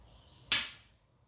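A spring air gun fitted with an adjusted triple spring fires one sharp, loud crack close by, followed by a short decaying tail against near silence.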